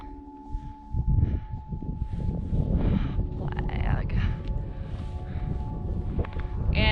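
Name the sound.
wind blowing on a mountain peak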